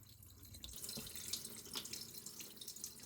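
Tap water runs steadily over a cooked bamboo shoot as rice bran is rinsed off in a sink, a soft continuous splashing with a few brief drips, faint and with no talking.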